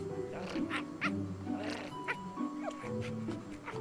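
Puppies yapping and whimpering in the Minecraft Story Mode video game, with short high yips and squeaks repeating over a steady mix of game music and ambience.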